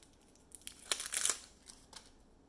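Mascara packaging being torn and unwrapped, with a burst of crinkling, tearing plastic and paper at close range, then a few softer rustles.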